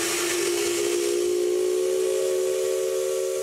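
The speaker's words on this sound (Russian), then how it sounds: "для зрителя главное – это паровозный свисток." Loud, sustained steam locomotive whistle holding a steady tone with airy steam hiss, continuous and close throughout.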